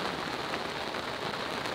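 Dense, steady patter of rain drumming on a sailboat at night, close and continuous with no pauses.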